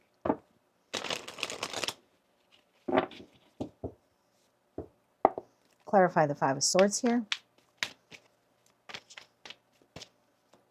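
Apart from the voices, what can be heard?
shuffling tarot cards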